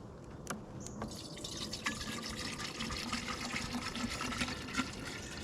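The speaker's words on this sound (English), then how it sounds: "So I'm going to fill it up with water and we'll see if it works." Water pours steadily into a camping coffee gadget at a peaceful tent campsite, a soft continuous trickle and fill with a few small drips and clinks, fairly faint and heard alone.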